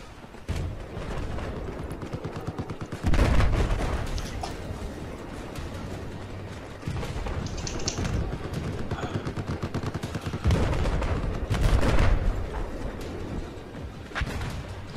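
Rapid gunfire from the video game Battlefield 4 in a Conquest multiplayer match, with bursts of automatic fire and heavier blasts layered over continuous battle noise, loud and sustained throughout.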